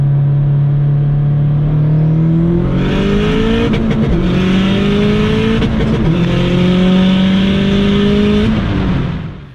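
A car tuned with a Cobb AccessPort revs hard during flat-foot shifting: the engine note climbs, drops at each shift with the throttle held down, then climbs again, loud and close throughout.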